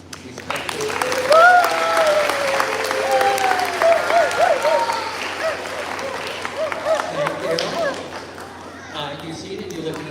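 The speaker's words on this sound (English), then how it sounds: "let's practice that applause for me actually" School audience at a teacher award event practicing respectful applause, a swell of clapping that rises and fades over several seconds while a voice speaks over it.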